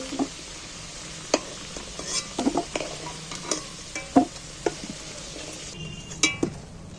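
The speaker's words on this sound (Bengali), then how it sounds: "দেখো আলুটা কিন্তু আমার লাল লাল করে ভাজা হয়ে গেছে।" Potato pieces fry in hot oil in a kitchen pan, giving a steady sizzle broken by sharp clinks and scrapes from a utensil stirring them. No one speaks.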